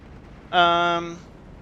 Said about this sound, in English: double Werfer strike after the Panzerwerfer